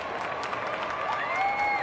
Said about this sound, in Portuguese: Com certeza será muito aplaudida.